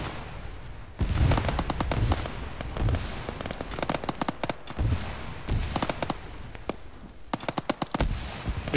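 Gunfire in the tactical shooter Arma 3, with rapid volleys of sharp cracks, machine-gun bursts and scattered single shots, loud and close, going on through the whole stretch.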